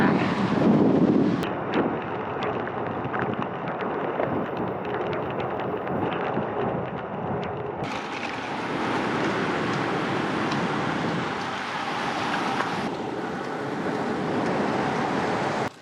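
Gusty wind buffets the microphone outdoors ahead of an approaching thunderstorm near Ajdovščina, a steady roaring rush with heavier low-end blasts early on, then shifting texture throughout.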